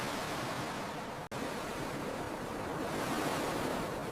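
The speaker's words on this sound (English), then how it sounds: "I am watching the waves." Ocean waves at a beach wash ashore in a steady, rushing roar of surf, close and fairly loud with a brief dropout early on, and no voices.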